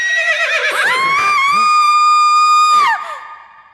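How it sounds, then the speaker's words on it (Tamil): A woman screams loudly in a Tamil comedy film scene, a high, sustained cry held for about two seconds with wavering pitch, then breaking off and fading. "அம்மா ஏன் கத்துறாங்க?"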